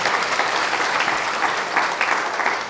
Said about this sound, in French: Applaudissez avant que je ne dise son nom.